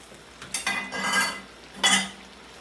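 Adobo beef intestines being stirred in a pan, metal utensil scraping and clinking against the pan in a few short bursts, close up and without voices.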